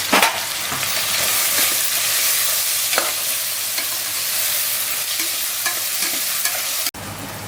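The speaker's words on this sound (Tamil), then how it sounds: "நல்லா வதக்கிக்கோங்க. இதையும் இப்போ கொத்தமல்லியும் புதினாவும் சேர்த்துக்கலாம்." Biryani masala with ginger-garlic paste, coriander and mint sizzles in hot oil for a seeraga samba mutton biryani, a continuous close frying hiss broken by stirring scrapes.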